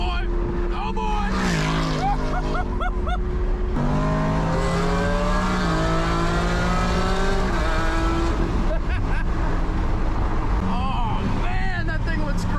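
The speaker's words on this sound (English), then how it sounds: "the sound whenever you get on the gas, every American male for the most part should crave that V8 just raw power sound" Ford Mustang V8 revving hard under throttle, a loud raw engine roar with rising and falling pitch as it accelerates and shifts, heard from inside the car with a voice talking over it.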